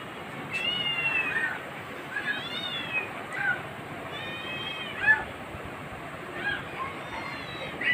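A cat meows several times in drawn-out, plaintive calls, moderately close, spaced a second or two apart over a steady background hum.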